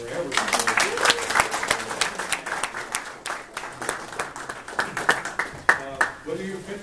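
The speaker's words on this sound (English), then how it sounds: "Let's have one round of applause for everyone." Pitch contest audience breaks into applause, a dense run of close clapping that rises and falls, with a voice speaking over it.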